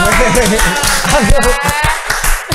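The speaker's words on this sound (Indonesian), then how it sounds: "Kasih tepuk tangan dulu dong." A small crowd claps for a couple of seconds, quick overlapping hand claps with voices mixed in.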